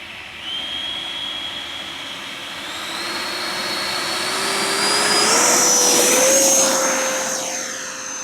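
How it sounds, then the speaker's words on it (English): A Freewing RC jet plane with its landing gear down comes in to land, its loud whining turbine rising and sweeping in pitch as it approaches and passes close, with no talking. "so Will just dropped his gear. Now he's coming in"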